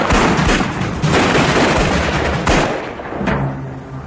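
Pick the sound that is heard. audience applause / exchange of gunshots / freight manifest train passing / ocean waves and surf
exchange of gunshots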